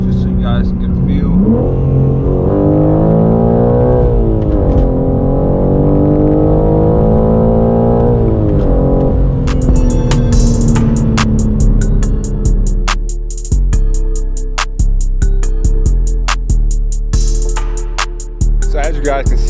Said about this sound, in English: So here goes an acceleration with the windows up, just so you guys can get a feel.